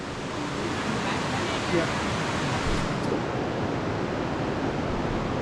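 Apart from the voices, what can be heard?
waterfall inside Rio Frio Cave, Belize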